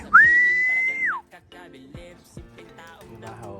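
A single loud, sustained whistle blast rings out close by, followed by faint scattered sounds and quiet rustling.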